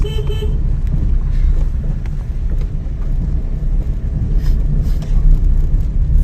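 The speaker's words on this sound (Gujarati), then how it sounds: "વગાડ હોર્ન વગાડો" A short car horn toot sounds at the start over the steady, loud rumble of a moving car's engine and road noise.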